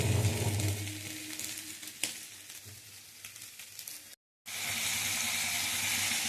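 Water poured into a sizzling, well-fried curry in a pan, giving a loud initial sizzle with stirring that eases into a quieter simmer, then a brief gap before a steady hiss returns.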